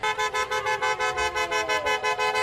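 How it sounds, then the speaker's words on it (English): Car horns honk again and again in a steady pulsing rhythm at a street protest supporting Walt Disney World employees, loud and close, with no talk over them. "Honks of approval and cheers of support"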